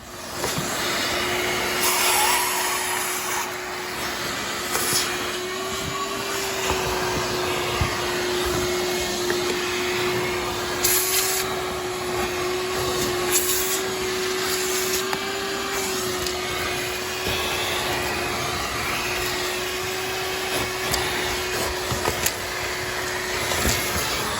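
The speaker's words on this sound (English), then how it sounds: "I'm not going to bore you with all the vacuuming and stuff, so I'm going to get to the vacuuming" A vacuum cleaner drones continuously at close range while cleaning the interior of a Honda Accord, its steady whine shifting slightly with occasional bumps and knocks as the nozzle moves around; no speech.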